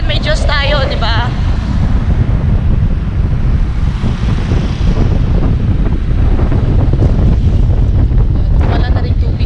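Strong typhoon wind roars steadily and loudly throughout, buffeting the microphone with dense low rumble and gusts.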